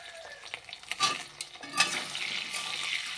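Potatoes frying in oil in a pan are stirred, giving a soft continuous sizzle broken by scraping strokes and a few light clinks, moderately close with no talk.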